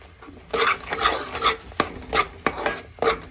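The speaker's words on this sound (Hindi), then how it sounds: "बस अब इसको जो है वो तेज़ आंच पे पका लेंगे तो आपका जो हलवा जो है वो रेडी हो जाता है।" Semolina halwa with sugar and cardamom being stirred in a pan over high heat, a rhythmic series of close scraping, rasping strokes roughly every half second.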